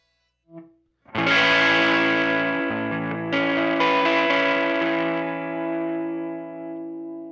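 Electric guitar through a Catalinbread Dirty Little Secret overdrive pedal at full volume: a faint pick noise, then a loud distorted chord ringing out and decaying, with a couple of fresh strums.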